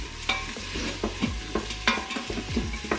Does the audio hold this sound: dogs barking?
no